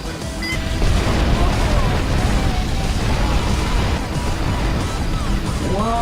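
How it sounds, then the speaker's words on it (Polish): Explosion in the video game GTA Vice City, a loud sustained booming rumble with crackling debris that fades slowly, mixed with game sounds and some talk. "Popatrzę się cudnym wybuchem."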